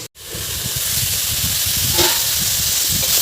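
An electric mixer grinder blends two tomatoes with a loud, steady whirring roar that starts after a brief pause and holds at an even level. No one speaks.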